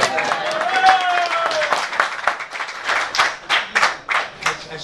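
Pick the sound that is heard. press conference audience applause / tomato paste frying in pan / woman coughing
press conference audience applause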